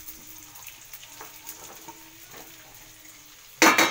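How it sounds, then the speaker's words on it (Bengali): Vegetables and Gobindobhog rice frying in a pan for vegetarian fried rice, a soft low sizzle with scattered stirring clicks, ending in a sudden louder burst of sizzling and scraping. "সব একে একে দিয়ে দেবো, একবারে সব ভেজে নেবো।"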